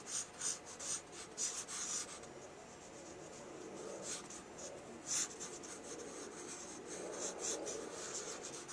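Pencil drawing in a sketchbook, soft scratchy strokes rubbing across paper in uneven bursts, close and quiet, no talking.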